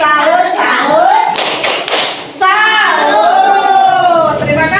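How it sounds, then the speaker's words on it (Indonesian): A class of children doing a rhythmic 'tepuk salut' clapping cheer: short bursts of patterned group claps between chanted and sung voices, close and lively. "Ayo kita tepuk salut untuk semuanya."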